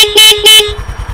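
Two loud, bright motorcycle horn honks sound close by in quick succession, each about a tenth of a second long, followed by a low engine putter.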